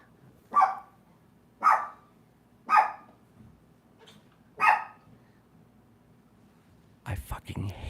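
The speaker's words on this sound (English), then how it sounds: "Sorry, that's my dog." A pet dog barks four times in a steady rhythm, each loud, sharp bark spaced about a second apart, close to the microphone, followed by a brief burst of noisy sound at the end.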